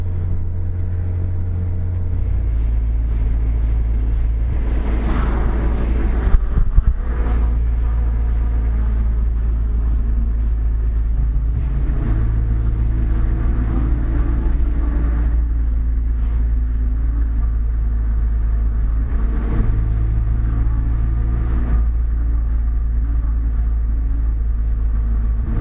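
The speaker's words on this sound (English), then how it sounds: "if you go across them at the speed limit, it plays a tune at you" A Toyota AE86 rolls over musical road grooves on a mountain road, the engine rumble overlaid with a low, droning tone that shifts pitch in steps like a slow tune, steady and close.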